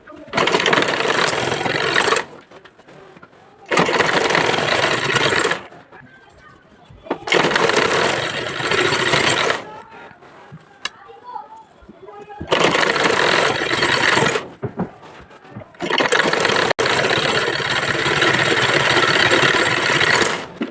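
Sewing machine stitching a double seam on a saree blouse, running in four loud bursts of steady whirring separated by short pauses, with low talk in the gaps.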